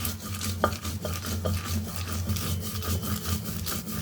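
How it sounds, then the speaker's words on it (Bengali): Green chilies, roasted beforehand, being ground into paste by hand on a grinding stone for a Bangladeshi bharta, giving a steady close rubbing and scraping sound with a few light knocks and no talk. "কাঁচামরিচগুলো বাজলাম আগে এখন বেটে নিব"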